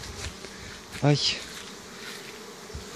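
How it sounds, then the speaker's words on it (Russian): Bees flying around an apiary: one loud, close buzz sweeps past for a moment over a quiet outdoor background, with a short exclamation from a person. "Пчелки летают."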